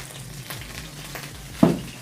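Cooking oil heating in a saucepan gives a faint, close sizzle with a few soft crackles and a single louder pop near the end, and no voices.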